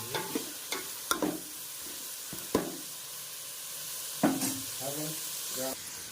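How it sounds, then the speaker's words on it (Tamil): Ingredients sauté in a pan, with a sizzling hiss under repeated clattering stirs of a spatula against the metal, several sharp scrapes and knocks coming at uneven intervals, close and moderately loud. "நல்லா வதங்கட்டும்."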